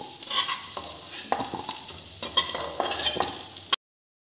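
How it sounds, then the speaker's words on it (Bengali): Potatoes fry in oil with a little salt in a pan, giving a steady close sizzle broken by repeated scraping stirs before the sound cuts off abruptly. "আলুতে আমি সামান্য লবণ দিয়ে ভাজবো"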